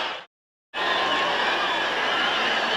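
A Texas Stadium crowd roars during the 1981 Monday Night Football game between the Buffalo Bills and Dallas Cowboys after Tony Dorsett's 73-yard touchdown run, a broad sustained cheer that returns loudly after a brief silent cut.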